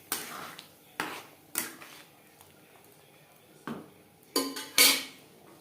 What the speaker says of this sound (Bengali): ঘুগনির সাথে গরম মশলা পাউডার বেশ ভালো করে মিক্সড করে দেবো।